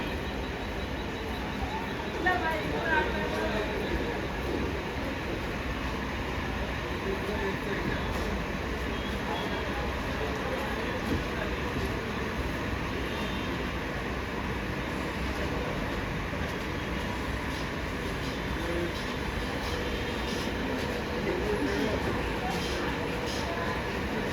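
Steady low rumble and hum of a Karjat-bound Mumbai local train standing at a platform at Badlapur station at night, with station bustle and distant voices throughout.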